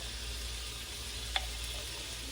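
Apple cider vinegar, half a capful, poured into a simmering non-stick pan, giving a faint, steady sizzle with one brief tick partway through.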